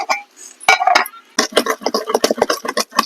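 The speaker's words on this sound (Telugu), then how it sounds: "మూత పెట్టుకుందాం" A lid goes onto a cooking pot of radish, chana dal and sesame with coriander for chutney: a few sharp metallic clinks and knocks, close and fairly loud, followed by lighter rattling.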